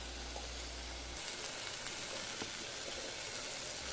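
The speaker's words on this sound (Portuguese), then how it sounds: "Estou fritando ela aqui no alho agora" Quiet, steady sizzling of chicken frying in garlic in a pan, a soft crackling hiss with occasional pops and a low hum cutting out early.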